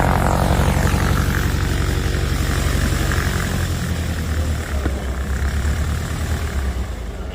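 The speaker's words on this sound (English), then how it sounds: "So, again, Anthony Oswego, who is an airshow pilot based in Riverside County as well, who came out to give us a nice little show today." Propeller plane performing at an airshow during an FBO opening celebration, its engine droning loud and steady overhead, the pitch sliding lower midway as it passes with no talk.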